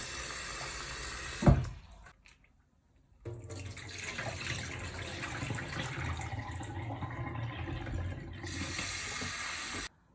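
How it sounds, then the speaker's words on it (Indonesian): Dried shrimp being rinsed in a kitchen sink, with water running from a tap, a brief pause, then running and splashing again steadily for several seconds. "Cuci bersih lah ya, 2-3 kali."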